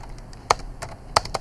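A few sharp, separate keystrokes on a computer keyboard, close and clear, spaced out over a quiet background.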